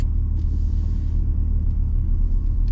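A car climbing the hilly roads of the Haven Devon Cliffs holiday park at Exmouth produces a continuous low engine and road rumble, heard from inside the vehicle, with no talk.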